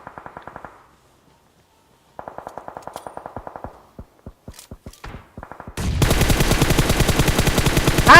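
Gunfire in the PUBG Mobile battle game: a steady run of sharp single shots, a pause, more spaced single shots, then a loud sustained burst of rapid automatic fire close by to the end, with no talk over it.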